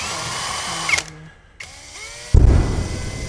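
A power drill running in reverse whirs in short bursts, pausing and restarting with changing pitch, ending in a louder grinding run.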